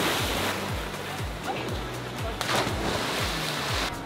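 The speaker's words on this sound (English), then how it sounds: "The waves are actually picking up right now." Ocean waves surge and crash along a Hawaiian shore in a constant loud roar, with repeated low rumbling swells and splashes rolling in close by, and no talk.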